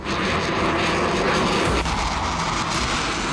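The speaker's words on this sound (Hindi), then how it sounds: "आईडीएफ के फाइटर जेट की सोनिक बूम से लेबनान थर्रा रहा है।" An Israeli fighter jet flies over Lebanon, a loud, steady roar of jet engines that fills the whole stretch without pause, with the pitch shifting partway through as it passes.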